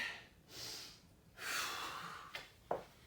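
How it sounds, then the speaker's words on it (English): Deep breathing during a dynamic warm-up exercise comes as a few slow, quiet breaths in and out, close to the microphone, ending with a short sharp exhale. "Really focusing, opening up that chest, breathing into it."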